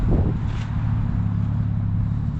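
Nissan 240SX on summer tires spinning in snow, a loud, steady engine drone and tire rumble held throughout at close range, without talking.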